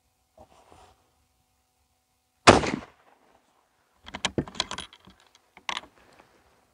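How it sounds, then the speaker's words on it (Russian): Rifle shots at an outdoor shooting range: one loud, sharp report stands alone, followed by a cluster of several quicker impulsive bangs and a final shorter crack, separated by quiet gaps. "Так, друзья, ну закончили мы свою стрельбу."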